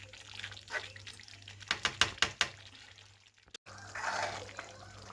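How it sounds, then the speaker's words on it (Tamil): Thick prawn curry gravy bubbling in a pan on the stove, with a quick run of soft popping bursts in the middle over a faint simmering hiss, heard close and quiet. "ஒரு 5 நிமிஷம் நல்லா கொதிக்கட்டும்."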